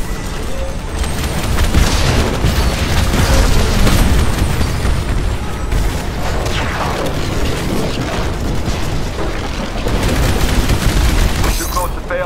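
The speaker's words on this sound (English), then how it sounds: "Spinning up the cannon for another shot." Heavy Titan cannon fire in the video game Titanfall during a mission against a Sentinel, repeated loud booming blasts and crackling bursts over continuous battle noise, with radio voices talking over the action.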